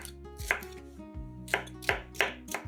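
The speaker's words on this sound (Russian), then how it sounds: "Нарезаем произвольными кусками" Sweet bell pepper being cut into rough pieces with a knife on a board: about five crisp, close chops at an uneven pace over a low steady tonal background, with no talking.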